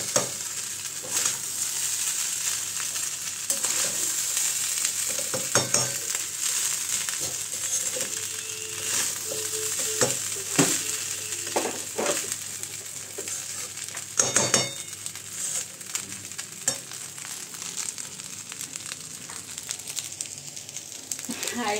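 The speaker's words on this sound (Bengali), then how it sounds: "এখানে ফ্রাইড রাইস হচ্ছে" Fried rice sizzling and being stirred in a pan in a home kitchen, with steady frying hiss and scraping stir strokes throughout, fairly close and continuous.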